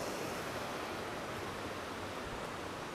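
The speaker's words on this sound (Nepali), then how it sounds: "पानी बगिराखेको छ।" Water flowing in a stream beside a wooden bridge at a trout farm, a steady broadband rush heard close and continuous throughout, with no voices over it.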